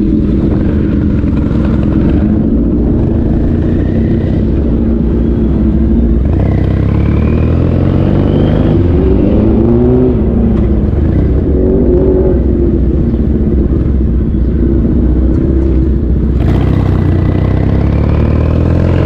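An electric Tarform motorcycle out on a test ride gives a steady, loud low hum and road rumble with a mechanical clatter. The sound holds continuously throughout, with no talking.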